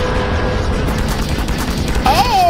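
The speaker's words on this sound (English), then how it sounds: "Skibidi toilet is coming through with the rockets." Rockets fire in a Skibidi Toilet animation as a dense, loud barrage of bursts and rumble, with a short voice-like sound rising near the end.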